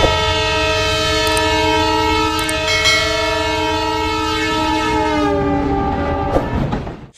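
A Burimari Express intercity train on the Dhaka–Lalmonirhat–Burimari route passes with a loud, sustained horn blast over a constant rumble of wheels and cars, the horn cutting off near the end.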